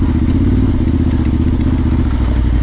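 A Yamaha Ténéré 700 motorcycle ridden off-road over rough tracks in southern Morocco gives a loud, close, pulsing engine drone with a rattling clatter throughout. No one speaks.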